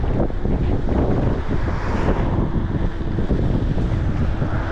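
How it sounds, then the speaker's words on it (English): Strong wind buffets the microphone on a downhill e-bike ride, a steady, loud roar that fills the whole stretch with no talking. "And I got the wind in my face."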